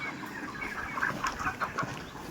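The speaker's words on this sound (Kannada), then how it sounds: "ಅಲ್ಲಿ ಕಪ್ಪು ಕೋಳಿ." A hen clucks repeatedly in short, uneven bursts, fairly close, with soft farmyard background noise throughout.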